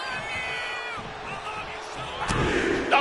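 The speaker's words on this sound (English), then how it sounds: "Jacob Fatu feeding off the crowd, feeding off their energy" A virtual wrestling arena crowd in WWE 2K25 roars continuously behind a match, with a sharp slam or impact late in the stretch and commentary voices partly over the noise.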